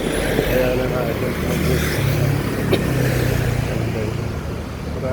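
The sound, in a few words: tricycles passing on a street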